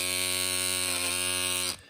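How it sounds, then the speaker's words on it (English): A small vacuum cleaner runs over a model diorama with a steady, loud electric whine and buzzing hum that cuts off abruptly near the end. "I use the vacuum too."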